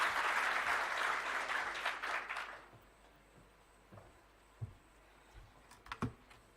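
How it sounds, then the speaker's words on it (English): An audience claps to welcome a speaker at a World MSME Day event in Kenya. The applause is moderately loud for the first few seconds, then fades out, leaving a quiet room with a few scattered taps and bumps. "We can welcome her with a clap."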